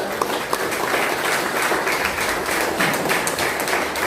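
A congregation claps in a Pentecostal church, with dense, continuous, rhythmic clapping from many hands that stays loud and close throughout.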